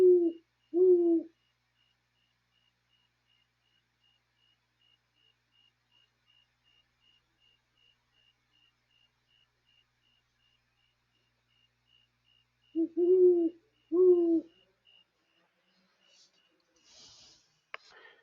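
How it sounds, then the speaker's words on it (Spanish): An owl hoots in two pairs of low, soft calls, one pair at the start and another after a long stretch of near silence, clear and isolated with a faint high tone lingering between them. "La voz del búho"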